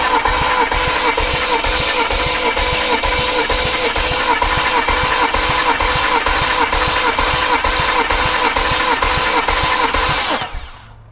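The starter of a BMW 335i with the N54 engine cranks it steadily during a compression test. A loud, even, rhythmic churning runs unbroken for about ten seconds, then stops abruptly.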